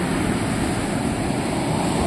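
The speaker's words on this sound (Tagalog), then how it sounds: "Wow, malakas ang alon. Ang lakas-lakas." Strong sea waves roll onto the shore in a loud, continuous roar of surf with some wind rumble, with no voices.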